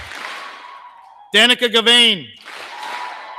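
Applause from a high school graduation audience, a broad wash of clapping before and after a name is read aloud over the speakers.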